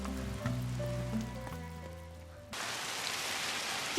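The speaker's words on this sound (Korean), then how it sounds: "그러던 중 비가 내리고 둘은 근처 처마 밑으로 이동합니다." Rain starts abruptly in a film scene, following soft sustained tones and becoming a dense, steady hiss of falling drops that fills the rest of the moment.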